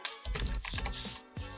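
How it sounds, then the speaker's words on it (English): Short burst of computer keyboard typing, a quick run of close, crisp key clicks with brief pauses, heard alone without talk. "And then you type mainstays"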